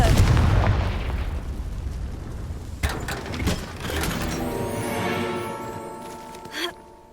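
A spell explosion in a video game: a heavy rumbling boom fades out, followed by sharp crackling bursts and a ringing mechanical tone that trails off, loud and close.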